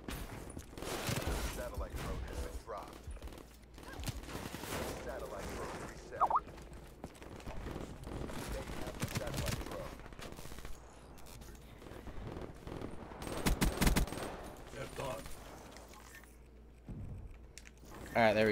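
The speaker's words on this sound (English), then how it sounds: "I love this shotgun so much" A shotgun in Black Ops 3, a long-barrel Kuga class, fires in repeated bursts during a fast online match, with someone talking continuously over the shots and other game sounds.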